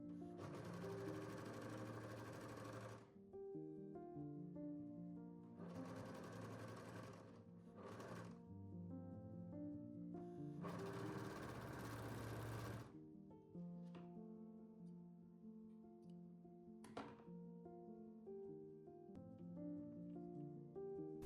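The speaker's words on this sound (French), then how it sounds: "Profitons-en aussi pour surjeter le bas de notre parmenture avant de l'assembler à notre vêtement." A serger overlocks the bottom edge of a garment facing in bursts of rapid, loud whirring stitching, several runs of a few seconds each separated by pauses with quiet handling sounds and short clicks.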